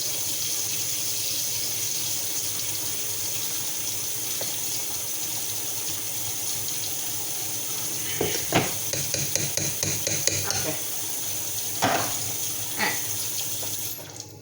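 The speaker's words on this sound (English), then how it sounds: "Get that filled up with water." Tap water runs steadily into a container at a sink, a continuous close rushing that lasts throughout, with a few knocks and clatters of the vessel toward the end.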